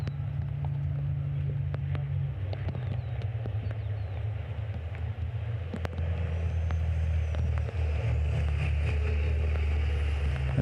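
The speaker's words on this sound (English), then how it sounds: "Incredible power and torque figures from these trucks." Racing trucks with over 1,000 horsepower at the Slovakia Ring: a deep, continuous engine drone with steady low harmonics, shifting in tone midway, accompanied by scattered clicks and a faint higher whine.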